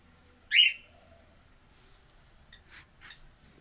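Pet birds chirping indoors while feeding on homemade egg food: one loud bright call near the start, then a few fainter short chirps, with no talk.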